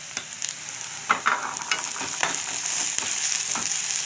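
Green chilies and curry leaves hitting a pan of frying onions, a close, lively crackling sizzle with sharp spits and scrapes of stirring over about four seconds, no one speaking.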